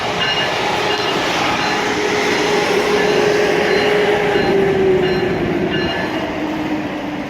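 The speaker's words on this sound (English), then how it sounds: "Can't hear anything over these blowers." Locomotive blowers on a passing train give a loud, steady roaring rush with a faint tonal whine running through it, close by and constant throughout.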